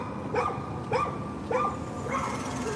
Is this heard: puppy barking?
yes